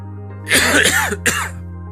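Someone coughs in a short burst of two harsh, close, loud coughs, over a steady low electrical hum, in a Hindi educational programme scene about illness spreading by coughing.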